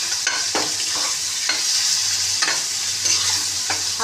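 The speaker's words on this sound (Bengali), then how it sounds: "এবার বন্ধুরা মশলাটা না একটু কষিয়ে নিই। পেঁয়াজগুলো একটু ভাজা ভাজা করে নিই।" Onions and spices stir-fried in a pan for a village-style taro stem fish curry: a steady close sizzle broken by regular spatula scrapes roughly every half second, with no talking.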